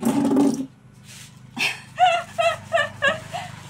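A dog barks and yelps several times in quick, rhythmic succession close by, after a brief stretch of background noise.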